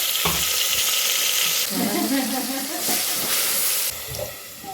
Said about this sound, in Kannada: ಅದ್ರ ಜೊತೆ ಎಲ್ಲ ಮಸಾಲೆ ಎಲ್ಲ ಹಾಕೊಂತಾರೆ ಫ್ರೈ ಮಾಡೋಕ್ಕೆ